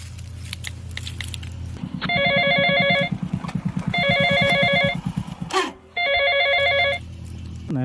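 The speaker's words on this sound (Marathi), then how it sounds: "2 मिनिटात शामरावले फोन लावतो." A telephone rings in three repeated electronic bursts, loud and close, over a low rumbling hum, with no talk.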